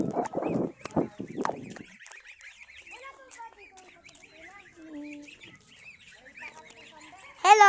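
Ducks and other fowl at a zoo, honking and clucking calls in short bursts at close to mid range, with a few quieter calls between them and a brief burst of other noise near the end.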